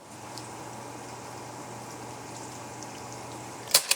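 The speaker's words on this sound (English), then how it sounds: "we're going to lay our Romanesco down and let the sizzle do its thing." Romanesco steaks laid in hot oil give off a faint, steady sizzle and gentle bubbling in a quiet kitchen, ending with a couple of brief sharp clicks.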